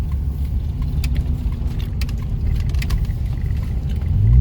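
A big vehicle's engine in a van, truck or SUV pulls steadily at low revs, held under 3,000 RPM while slowly merging, a continuous low rumble with road noise that swells slightly toward the end.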